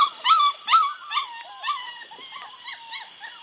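Male Bluetick Beagle mix puppies howl and whimper in a string of short, high, wavering cries, loud at first and then softer, with no talking.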